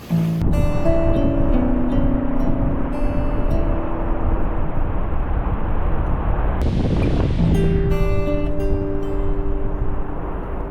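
Big ocean waves make a loud, continuous, close roar, with sustained tones like background music running over it and no talking.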